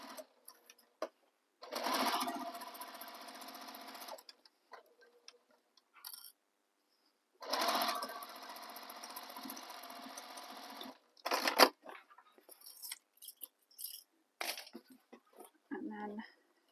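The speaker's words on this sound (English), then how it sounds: "So now I'm going to sew the sides of my pocket." Two bursts of a sewing machine stitching the sides of a tote bag pocket, each lasting a couple of seconds, separated by quiet handling noises and brief clicks.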